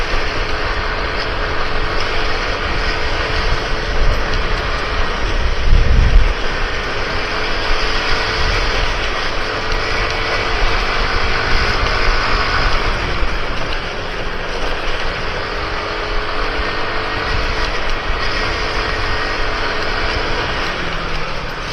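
A Yamaha Mio Smile motorbike engine runs steadily at night, a close, constant buzzing drone with slight rises and falls in revs throughout, mixed with passing road noise and no talk.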